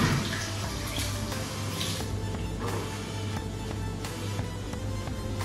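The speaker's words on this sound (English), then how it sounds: "So let me get a rinse on my hand." Hands rinsed under a running kitchen tap, a steady hiss of flowing water with soft splashes throughout, no speech over it.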